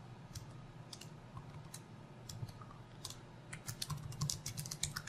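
Quick, uneven keystrokes clack on a computer keyboard while code is entered on a Linux Mint machine, faint and close, getting busier toward the end with no talking.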